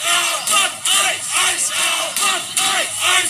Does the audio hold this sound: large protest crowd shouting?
yes